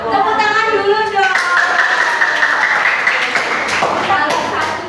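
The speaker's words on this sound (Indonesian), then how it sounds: "Tepuk tangan dulu dong." A crowd of children claps together in a steady, dense burst of applause that fills the whole stretch, loud and close, with young voices mixed in.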